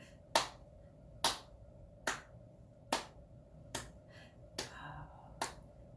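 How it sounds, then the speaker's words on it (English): Seven sharp, evenly spaced claps ring out alone at a steady beat, each with a short decay, fairly close but not loud, as a children's storytime sing-along moves into hand clapping. "you ready for some hand clapping?"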